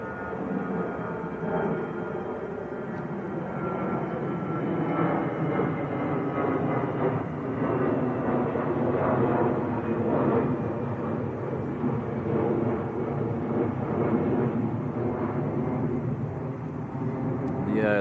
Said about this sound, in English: The go around is EasyJet from Barcelona, an Airbus A320.